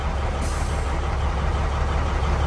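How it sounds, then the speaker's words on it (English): Air brakes on a tractor-trailer truck release during an in-cab CDL brake check, heard as a loud sustained hiss of air over a steady engine rumble, close and unbroken. "Now, I'm going to test my tractor brakes yellow by releasing my trailer brakes"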